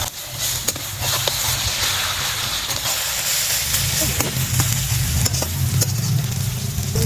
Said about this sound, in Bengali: একটু ভাজা আছে, টাইম লাগবে, হালকা করে আঁচে জাল দিয়ে ভাজতে হবে।